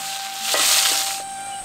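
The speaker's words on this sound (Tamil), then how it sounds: "4 பல்லு பூண்டு, கறிவேப்பிலை, 4 வரமிளகாய், தட்டி வச்சிருந்த 20 கிராம் சின்ன வெங்காயம், கூடவே கொஞ்சம் உப்பு சேர்த்து தாளிச்சு" Garlic, curry leaves, dried red chillies and crushed shallots sizzle in hot oil for a Tamil village-style sambar rice tempering, cooked over a wood fire, with a loud steady crackling hiss that swells in the middle and settles again.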